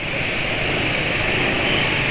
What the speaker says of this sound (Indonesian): suara mesinnya bisa lebih halus daripada saat baru berangkat